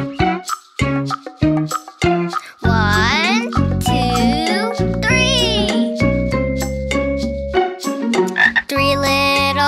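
Sung frog croaks in a children's song about green speckled frogs, with voices mimicking throaty ribbits over a jingly tune; a child-like singing voice carries the melody.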